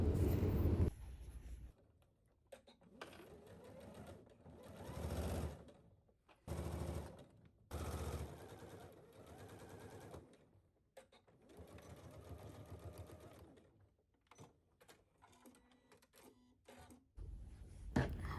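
Sewing machine stitching a narrow double-folded hem on a dress, running in repeated bursts of rapid mechanical whirring separated by short pauses, close and clear.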